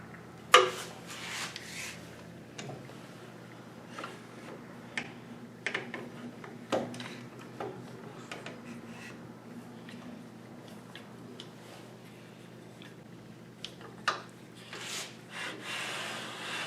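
A wooden jig slides along a table saw miter gauge past the blade, making quiet rubbing and scraping with scattered light knocks and taps over a low steady hum.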